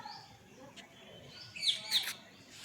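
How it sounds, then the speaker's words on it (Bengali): A pet parrot gives a couple of short, sharp chirping calls near the end, preceded by soft faint chirps in a quiet home. "দেখ ওটা প্যারেটটা ডাকছে।"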